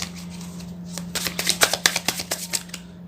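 Tarot cards being shuffled by hand: a run of crisp, quick riffling flutters grows denser and louder midway, close up over a steady low hum, with no talking.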